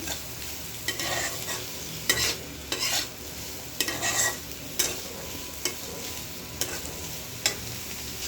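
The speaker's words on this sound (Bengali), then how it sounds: "এবারে লাড়িয়ে সারিয়ে মিশে এলাম" Food frying in a pan is stirred and mixed, a steady sizzle broken by repeated scraping strokes of a utensil against the pan in an uneven rhythm, close and moderately loud with no talk.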